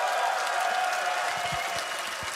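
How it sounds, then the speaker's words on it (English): A large arena crowd at the Dota 2 TI12 playoffs applauds and cheers in a steady, even roar that holds at the same level throughout, with no single voice standing out. "and that crowd, let them hear it"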